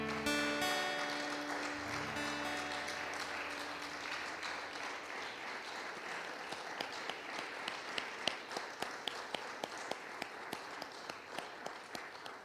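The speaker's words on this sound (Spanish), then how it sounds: "Den un aplauso a nuestro Señor." A church congregation applauds at the close of a service, a dense wash of many hands clapping that thins into scattered, sharper individual claps before fading.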